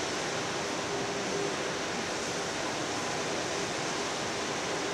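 Fukuroda Falls, heard from the mountain on its left side in autumn, pours as a steady, even hiss of falling water that stays constant throughout and is heard alone.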